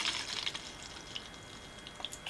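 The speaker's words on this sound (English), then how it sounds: "So I'm just going to pour some into this tray." Acid etch liquid poured into a tray, a faint close-up trickle with bright splashy drips and a few soft plops over a quiet background.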